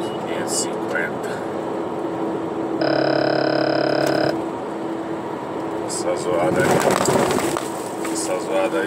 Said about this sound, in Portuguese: Essa zoada aí é quando o caminhão sai da faixa